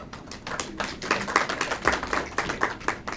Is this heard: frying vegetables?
no